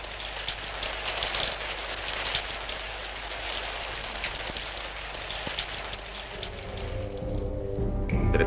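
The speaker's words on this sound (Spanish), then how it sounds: "la lluvia caía como cortina y dosel adecuado al dios de las nubes y de la fertilidad" Heavy rain falling like a curtain over Mexico City, a dense steady hiss with scattered drop impacts, and a deeper rumble building near the end.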